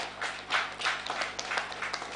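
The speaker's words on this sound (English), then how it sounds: "May we give him another round of applause." Modest audience applause at an awards ceremony for the chairman: light, scattered clapping in soft bursts, fairly quiet and brief.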